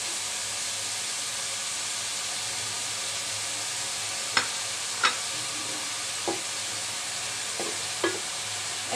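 Finely shredded cabbage with three or four green chilies frying in a pan, a steady close sizzle and hiss with a few sharp clinks of a spoon or spatula against the pan.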